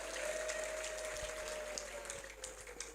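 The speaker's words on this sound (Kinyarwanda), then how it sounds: "Amashyi menshi ku Mana yacu yarakoze." A church congregation applauds God during a testimony service, steady crowd clapping forming a continuous wash of sound with a faint sustained tone running beneath it.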